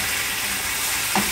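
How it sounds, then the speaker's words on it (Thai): Squid frying in hot oil with golden garlic in a pan, a dense continuous sizzle, close and fairly loud, with a faint clink near the end. "พอกระเทียมเหลืองได้ที่นะคะเราใส่ปลาหมึกลงไปค่ะ"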